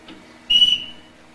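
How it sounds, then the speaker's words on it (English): A single sharp whistle blast, about half a second long, sounds on a school stage during a high school production of The Sound of Music, the captain's signal ringing out clearly over a quiet hall. "He didn't whistle for us when his wife was alive."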